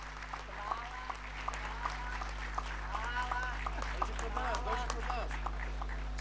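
Applause from the audience at a mayor's reception for actors during a film festival in Niš, a light, spread-out patter of clapping across a large room, with a voice faintly audible underneath.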